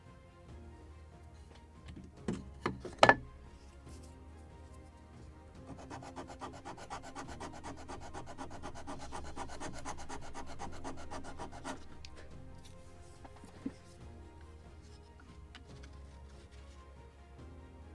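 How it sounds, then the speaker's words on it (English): A wooden plank on a Model Shipways kit of the 1776 gunboat Philadelphia is sanded by hand, giving a steady rasping rub for several seconds after a few sharp knocks, close and quiet, with no speech. "So more sanding, like good sanding."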